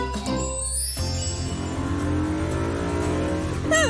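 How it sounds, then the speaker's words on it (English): A cartoon black race car engine revs hard in a kids' racing animation, a rising whine that climbs steadily over a low engine drone and ends in a quick squealing flourish, loud and close with no talk. "Pit is racing his black car."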